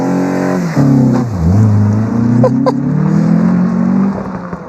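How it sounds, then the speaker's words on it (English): A high-mileage Mini's engine revs hard and close, pitch climbing and dipping through several quick throttle blips with a sharp crackle near the peak, steady and loud without any talk. "The throttle response is insane. It revs up perfectly, doesn't it?"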